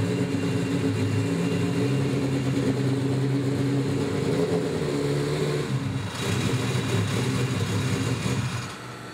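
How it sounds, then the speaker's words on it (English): A drag racing car's engine runs steadily at a distance, a rough mid-pitched drone that holds for most of the stretch before easing off near the end, with no talking. "You can hear the engine roaring over there"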